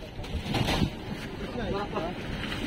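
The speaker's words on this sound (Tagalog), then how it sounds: "Sobrang lakas ng hangin." Strong gusty wind during Typhoon Carina roars steadily against the microphone, loud and continuous, with a brief voice faintly heard partway through.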